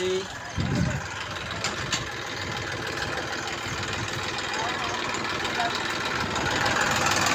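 A parked tractor's engine idles steadily with a low, continuous rumble and slight knocking throughout, near and unchanging, with a brief voice at the start.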